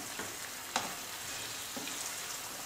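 Gnocchi stirred gently in a frying pan over a slow flame, a steady soft sizzle with a few faint scraping turns, close and fairly quiet.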